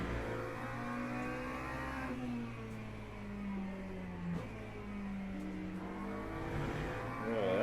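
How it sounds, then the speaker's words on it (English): A BMW GT3 race car in the sim racing game Le Mans Ultimate accelerates hard, its engine note climbing repeatedly through upshifts, steady and prominent, with other cars faintly behind. "that BMW is able to put down the power all that last quarter"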